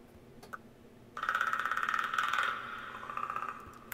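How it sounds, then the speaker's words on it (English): Predator creature sound effect from the sci-fi film: a fast, rattling, clicking trill that runs for about two seconds and trails off, quiet and alone after a few faint ticks. "that's the Predator sound"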